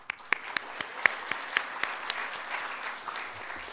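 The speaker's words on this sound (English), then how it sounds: "We all deserve some round of applause for successfully completing our time here" Graduation-ceremony audience claps in a brief round of applause, sharp individual claps close by, thinning out toward the end.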